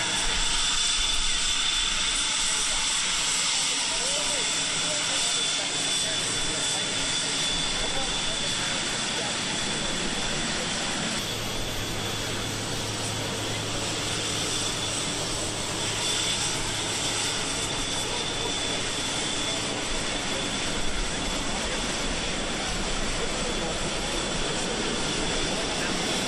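Navy Blue Angels jets roar continuously overhead during an air show demonstration at Idaho Falls in 2010, a broad loud rumbling wash that swells slightly partway through, with a public-address announcer talking over it.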